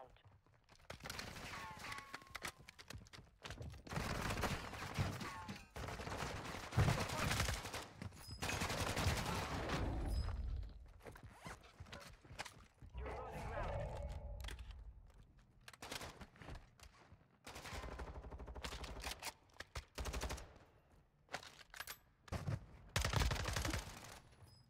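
Rapid automatic gunfire from the battle-royale game Warzone Resurgence comes in repeated loud bursts separated by brief pauses, with game footsteps and effects between the volleys.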